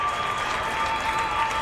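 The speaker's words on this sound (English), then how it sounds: "sets of fans cheering on their team as they return to the ice" High school hockey fans cheer and clap in a rink as the teams return to the ice, a loud, dense wash of applause and crowd noise sustained throughout, with a faint whistle-like tone running underneath.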